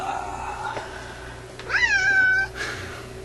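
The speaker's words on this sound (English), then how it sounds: "But here's Peanut the Wonder Cat." Peanut the cat, indoors in a shop, lets out one clear drawn-out meow of about a second, fairly close and louder than the quiet background, with a softer trailing sound just after.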